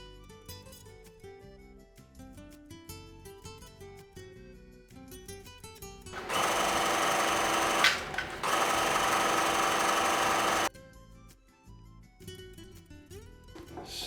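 A sewing machine runs steadily for about four seconds, loud and close, top stitching a fabric face mask with an elastic pocket and a filter insert, with a short pause midway; quiet music plays before and after.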